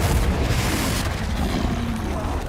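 A Confringo spell explodes in Hogwarts Legacy, producing a dense, continuous blast with a rumbling low end that holds steady and loud throughout the short moment.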